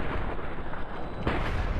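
Dense, continuous gunfire from a gun in Fallout: New Vegas on PC, a loud rumbling barrage of shots blending into booming bursts with no clear gaps.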